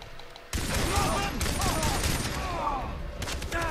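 Sustained gunfire in the first-person shooter game Far Cry 3, starting abruptly after a short lead-in and continuing as loud, dense bursts and rattling volleys for the rest of the clip.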